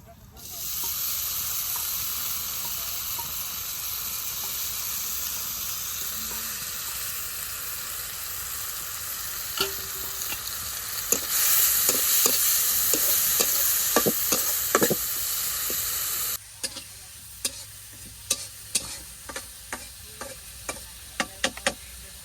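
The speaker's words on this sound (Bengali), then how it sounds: "এখন তেলে শুটকি মাছটা ভাজা নেই।" Dried fish (shutki) frying in a little oil in a wok gives a steady, loud hissing sizzle with scattered stirring clicks, dropping to a softer crackle near the end.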